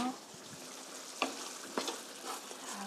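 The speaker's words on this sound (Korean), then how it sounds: "고루 섞어주시고요" A spoon stirs curry in a pot after ground black pepper is sprinkled in, with soft scraping under a steady bubbling simmer and a few light clicks against the pot.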